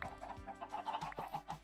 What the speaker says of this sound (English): We've got some chickens.